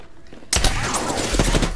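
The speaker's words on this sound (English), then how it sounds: "I'm getting shot at." Gunfire in the battle royale game Apex Legends breaks out suddenly after a quiet moment: loud, close bursts of shots with sharp individual cracks, and no talking.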